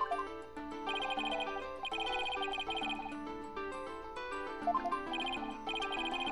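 A cell phone in Phoenix Wright: Dual Destinies plays a bright, repeating electronic melody of tinkling tones in short phrases, steady and moderately quiet, with nothing else heard.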